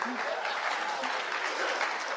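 Audience applause at a Holi kavi sammelan poetry gathering, a steady wash of many hands clapping throughout, with a faint voice audible underneath.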